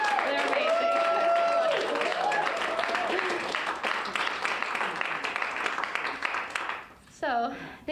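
At a community theater Halloween show, the audience applauds the cast. Sustained crowd clapping runs under loud talking and cheering, then thins out near the end.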